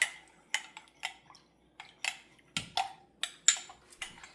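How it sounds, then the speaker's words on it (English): Utensil clinking and scraping against a bowl while ingredients for an egg roll in a bowl dish are mixed, a series of sharp irregular clacks and taps close by, with short quiet gaps between strokes. "I'm just going to go ahead and mix that all up"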